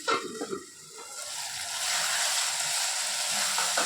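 Potatoes simmering in a covered pan: a couple of soft clanks from the lid settling, then a steady, gently rising hiss of bubbling and sizzling that fills the rest of the moment, close and moderately quiet.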